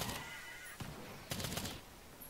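Gunfire from shooting enemies in the co-op shooter game Earthfall, a few loud noisy blasts in quick succession, with a dense burst at the start and another near the middle, heard close over a constant wash of game noise.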